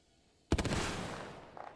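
Gunfire in the Apex Legends video game brings down a cargo bot: after a brief quiet, a loud burst of rapid shots hits at once, then a sustained noisy rumble trails off with faint crackle at the end.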